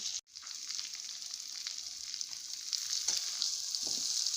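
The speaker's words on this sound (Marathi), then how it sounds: "हे हिरवी मिरचीचं वाटण टाकून परतून घ्यायचं आहे थोडा वेळ" Green chili paste with turmeric and coriander sautés in a pan: a soft, steady sizzle with light stirring scrapes, fairly quiet and without voices.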